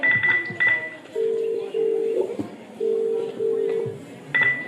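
A phone number is dialed with quick tones, then a ringback tone repeats several times with no answer, clear and moderately loud.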